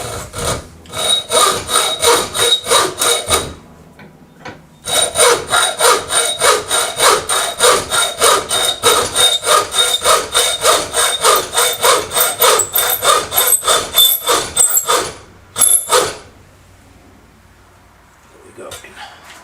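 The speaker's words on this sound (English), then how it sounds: "basically I cut it about the depth of the hacksaw blade" Hacksaw blade cutting into a round metal part held in a clamp, loud rhythmic back-and-forth rasping strokes in two long bursts separated by a short pause.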